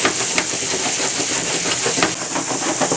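Mahi mahi sizzles loudly in a skillet, a steady close hiss and crackle with bursts of steam as the fish is shaken and kept moving across the pan.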